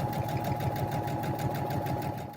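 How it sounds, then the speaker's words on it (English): A sewing machine stitches fabric skirt pieces together for a handmade medieval dress, running in a rapid, steady mechanical chatter up close for the whole stretch, easing slightly at the very end. "So I've finished sewing all the different pieces of fabric together to make the skirt part."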